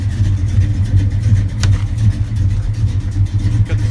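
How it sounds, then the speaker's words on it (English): A 1969 Dodge Dart GTS with a 340 V8 and a factory 4-speed idles after a cold start, its throbbing, lumpy rumble loud and close throughout. "Obviously a nice Mopar sound."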